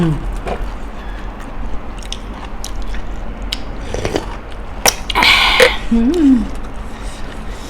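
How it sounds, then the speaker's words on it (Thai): Crunchy, spicy Thai pounded salad made with tripe is chewed close to the mic, giving repeated wet bites and crunches, with a brief voiced murmur near the end. "มันกรุบกรุบในปาก"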